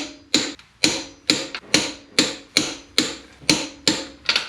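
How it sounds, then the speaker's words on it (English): A torque wrench tightening wheel lug nuts during a brake pad job, heard as about nine sharp, evenly spaced metallic clicks, each a quick crack with a short ringing decay, close and loud with no talking. "now I'm just torquing the wheel lugs to 90 foot-pounds"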